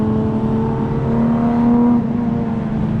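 Race cars at the 24 Hours of Nürburgring roar past loudly, engines screaming at high revs with a rising then falling pitch as one car sweeps by the spectator area.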